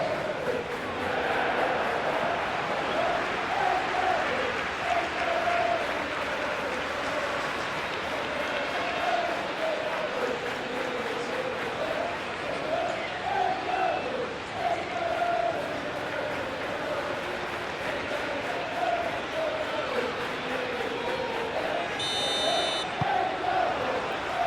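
Capacity stadium crowd at an England versus Uruguay football match in the PES 2021 video game, a steady loud roar of cheering and chanting that runs unbroken throughout, with a brief horn-like tone near the end.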